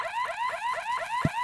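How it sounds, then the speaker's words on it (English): An alarm going off in the video game Horace, a rapid, rising electronic siren-like whoop repeating steadily at moderate volume, with a brief low thump near the end and no talk. "but soon an alarm went off."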